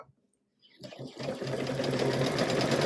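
An embroidery sewing machine starts up after a short silence and settles into a fast, steady mechanical stitching hum as it works a hummingbird and butterfly quilt block, with a voice talking over it.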